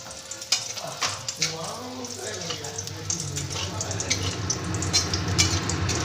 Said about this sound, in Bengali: ওই তেলে আমি হাতে বানানো এই যে আমার বিউলির ডালের বড়ি এটাকে ভেজে নিচ্ছি